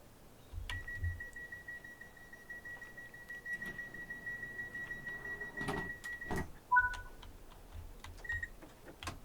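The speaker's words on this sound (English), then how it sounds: "Let's get the doors shut." Cab doors of a Class 377 electric multiple unit shutting in Train Sim World 5, a steady warning tone sounding for several seconds, then a couple of clunks and short beeps over a quiet cab hum.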